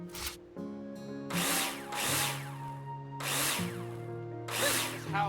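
In the Builder Simulator video game, a power tool fastens plasterboard to a partition wall in repeated short, whining screwdriver bursts, loud and close, with brief gaps between them.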